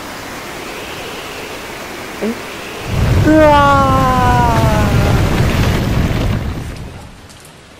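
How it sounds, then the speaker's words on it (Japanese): High waves and storm wind batter a ship in the video game Ao Oni 3, a loud, steady roar surging in midway and fading near the end, with a brief startled exclamation from a voice. "高波だ。"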